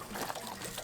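Water glugs and gurgles out of an RV water heater drain in a brief, close, continuous splashing pour with small bubbling pulses.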